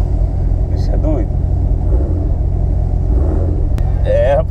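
Cars at a night meet rumble steadily with a deep engine drone throughout, while people talk and shout over it close by.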